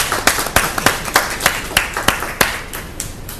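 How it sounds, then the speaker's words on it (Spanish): A studio audience claps to welcome a guest on a television program, sharp irregular hand claps rising and thinning out over a few seconds, close and fairly loud with no talking. "Lo recibimos con un aplauso."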